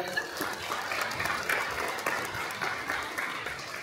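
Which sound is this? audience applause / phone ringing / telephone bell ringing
audience applause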